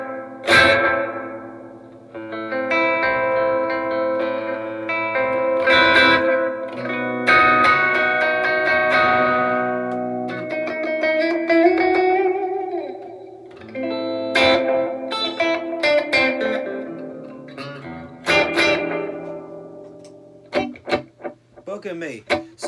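Electric guitar chords and single notes ring out through a Keeley Caverns V2 pedal with a washy reverb tail, strummed in bursts with short pauses between phrases.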